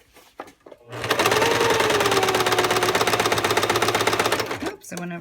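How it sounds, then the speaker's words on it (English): Sewing machine back stitching at the end of a waistband seam, a loud, rapid, even chatter of the needle that runs for about four seconds before stopping, with brief talk around it. "So when I get to the end, I'm going to back stitch it."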